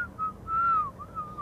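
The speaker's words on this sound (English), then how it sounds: "Hit that whistle. Let's put that whistle in there." A person whistles a short, clear, wavering melodic line, close and alone over faint background noise, for use as a music sample.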